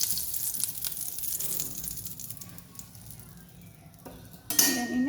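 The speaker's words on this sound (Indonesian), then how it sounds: "makanya aku goreng telur ini dulu" Eggs fry in a pan with a steady soft sizzle, broken by clinks of a utensil against the pan and a louder scrape near the end.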